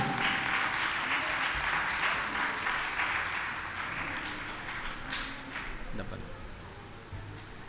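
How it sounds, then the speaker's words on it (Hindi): An audience at a religious question-and-answer programme gives loud, sustained applause that gradually softens over several seconds, with brief voices under the clapping. "एक बार जोरदार तालियां"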